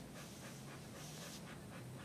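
A dog panting softly and steadily, quick breaths repeating close by with no talking.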